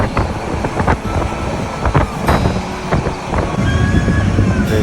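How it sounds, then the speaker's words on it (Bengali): A passenger train on the Dhaka to Brahmanbaria line runs at high speed, a loud, close, continuous roar of wheels and rushing wind with rhythmic clatter and rumbling throughout. "ট্রেন দ্রুত গতিতে চলছে, দেখলেই বোঝা যাচ্ছে খুব স্পিডে যাচ্ছে"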